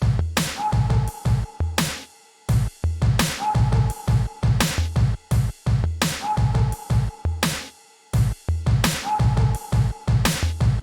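A produced beat plays with its drums run through a clipper that shaves off their peaks. Punchy kicks and snares repeat in a steady looping groove with brief dropouts, loud and up front, with no talking.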